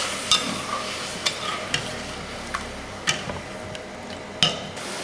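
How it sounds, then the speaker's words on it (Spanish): Sugar syrup boils in a pot for traditional yema dura, a soft bubbling simmer broken by sharp pops and occasional clicks from stirring, close and fairly loud. "El azúcar, según va hirviendo, va cogiendo varios grados de densidad."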